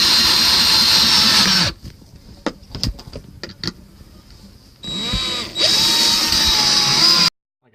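A cordless drill drives screws into ceiling boards aboard a boat: a loud, high whine runs for nearly two seconds, then a quieter stretch of clicks and knocks, then two more strong bursts of drilling before it cuts off.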